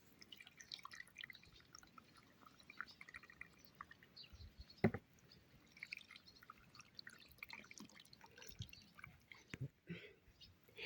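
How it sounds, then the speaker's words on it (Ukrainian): Leftover marinade trickles and drips over cucumbers packed tightly into glass jars, a faint, quiet splashing with a few sharper drops and no talk. "І тепер цим маринадом, що залишився, я заливаю ці огірочки"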